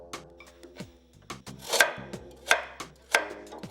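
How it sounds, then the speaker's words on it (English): A knife chopping a carrot into squares on a cutting board, a series of crisp, close, uneven chops with short pauses between strokes and no talking. "which I'll use a knife to cut it. Cut it about ½ inch and then cut them in squares."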